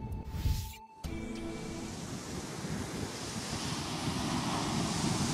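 Steady surf and wind roar on a beach, broad and continuous, building slightly over several seconds after a brief cut at the start, with wind buffeting the microphone and no voices.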